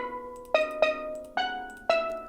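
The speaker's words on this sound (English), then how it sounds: "now I pulled up this steel drum sound that sounds something like this" Steel drum synth patch playing four bright, ringing struck notes in an uneven rhythm, each with a sharp attack and a sustained metallic tone that decays slowly, heard alone with no voices.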